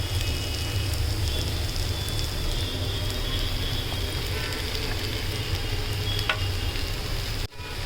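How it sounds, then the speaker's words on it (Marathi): Fried eggplant being stirred into sizzling masala in a pan, a steady frying hiss with scraping stir strokes running throughout at close range, no talk. "वांगे तळलेले आपण त्याच्यात टाकले आणि छान परतून घ्यायचं सगळी."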